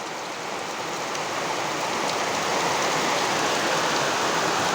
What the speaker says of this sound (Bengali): দেখতেই পাচ্ছেন প্রচুর ঝড় বৃষ্টি